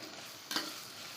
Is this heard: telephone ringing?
no